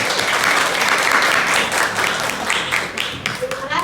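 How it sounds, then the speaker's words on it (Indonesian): Classroom applause for student presenters and responders during a peer-teaching lesson: a dense, steady wash of many hands clapping at close range, with a few voices mixed in underneath. "silakan beri aplaus untuk yang presentasi dan yang memberikan tanggapan"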